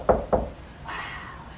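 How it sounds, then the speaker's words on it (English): Two sharp knocks on a door in quick succession, close and clear, followed by a faint higher tone fading out. "people from all across the neighborhood knocked on Amu's door."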